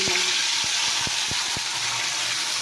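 Oil heating in a pan for frying fish gives a steady, close hiss of sizzle, broken by a few dull knocks of utensils against the pan.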